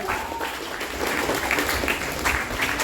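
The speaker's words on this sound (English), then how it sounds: "Give yourself a wonderful round of applause." Graduates and audience applaud at a Tagore Memorial Secondary School graduation ceremony, a short burst of steady crowd clapping with a faint voice briefly heard underneath.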